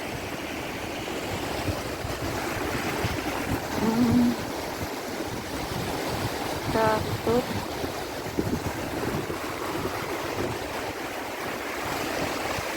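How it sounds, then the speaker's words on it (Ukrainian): Fast-flowing mountain river Tisza rushing and churning, a steady broadband roar of water heard close by throughout, with a person speaking briefly over it. "Тут більш стрімкий поток річки, поток води."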